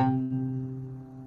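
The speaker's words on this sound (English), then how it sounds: "I'll strike this first octave here." A piano octave is struck once at the low end, ringing with a sustained, slowly decaying tone and layered overtones, clear and alone with no talking.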